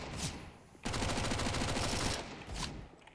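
Rapid automatic gunfire from CS:GO, a loud sustained burst of evenly spaced shots lasting over a second, framed by a couple of single shots before and after, no talk.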